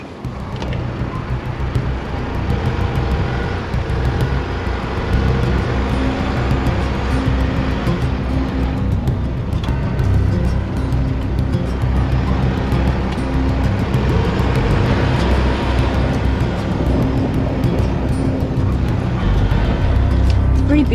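A four-wheel drive vehicle on road tyre pressures works along a rough track in a national park, its engine and road rumble steady and loud throughout with constant cabin noise.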